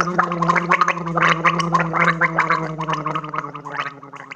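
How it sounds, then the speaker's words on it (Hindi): Someone rinses and gargles a mouthful of water, a continuous close bubbling, throaty rattle lasting about four seconds. "कुल्ला करने की आवाज़"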